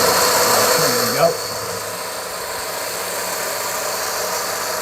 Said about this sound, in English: This BRM is one of the ones with the stronger motors.